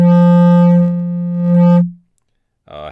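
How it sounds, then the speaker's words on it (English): A Kodamo EssenceFM MKII synthesizer holds a low, buzzy note through fold back distortion, with harmonics swelling and dipping in grit before it fades. A brief new note starts at the end. The sound is loud and alone. "Fold back distortion."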